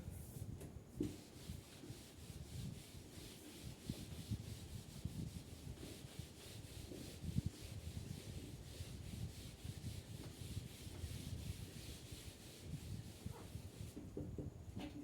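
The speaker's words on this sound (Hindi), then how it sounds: "थोड़ा मैं रब कर लेता हूँ पहले इसको" A board being rubbed clean in a classroom, a steady soft scraping and scrubbing that runs continuously at low level, close by, with no talk over it.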